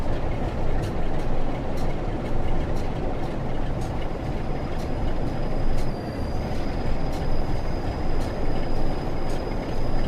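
A nuclear flask freight train runs on rails on the West Coast Main Line in Train Sim World 6, a steady loud rumble with regular clicking of wheels over rail joints and a thin high whine.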